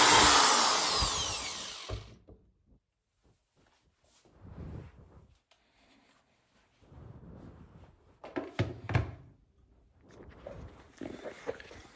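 A loud, whining power drill bores into plastic for about two seconds at the start, followed by quieter handling noises, knocks and rustling.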